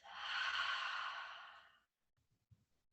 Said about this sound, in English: breathing out through our mouth